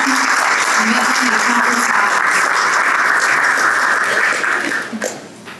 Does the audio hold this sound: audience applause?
yes